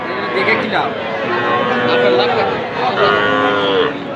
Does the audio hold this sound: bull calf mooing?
yes